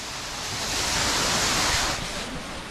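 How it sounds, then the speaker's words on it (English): Rushing water from Taman Beji Griya waterfall in Bali pours as a steady, dense roar that swells slightly midway and holds without any voices. "And now I can see the waterfall."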